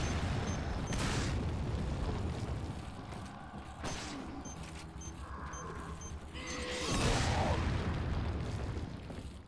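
Explosions in the Resident Evil 4 video game, several heavy booming bursts spread across the stretch with rumbling game noise between them and no talk.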